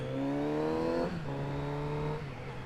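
Kawasaki Z900RS motorcycle engine pulling hard under acceleration, a rising note that breaks as it shifts up through the gears, two gear changes in quick succession, loud and close with no talking.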